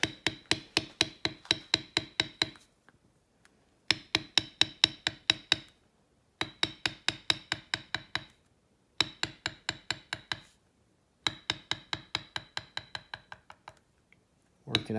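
Beveling tool struck with a mallet while tooling a feather design into leather, crisp rapid taps in bursts of about ten to fourteen evenly spaced blows, separated by short silent pauses, close and clear.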